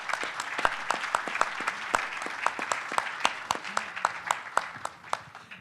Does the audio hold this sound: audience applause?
yes